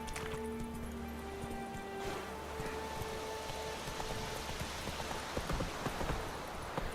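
Roach, a horse in the game The Witcher 3, galloping with soft, quick hoofbeats that patter faintly under sustained musical tones, growing a bit busier toward the end.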